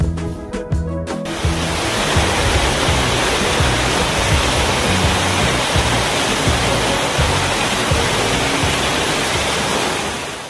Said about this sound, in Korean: 토항성 폭포는 설악산을 대표하는 3대 폭포 가운데 하나로 신광폭포라고도 한다